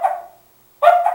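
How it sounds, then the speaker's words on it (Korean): A dog gives two sharp barks about three-quarters of a second apart, each clear and fairly close, with silence between them and no talk over them. The barks may come from an electronic toy rather than a live dog. "뭐 개가 짖기도 하고"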